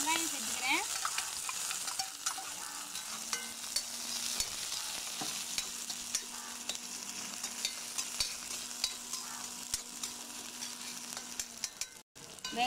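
Onions sautéing in a pan for chow chow kootu, a soft continuous sizzle close by with scattered light crackles and brief scraping stirs, a faint steady hum in the background, and no voices.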